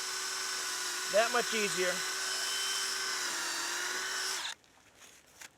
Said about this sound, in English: So, always carry a drill with you.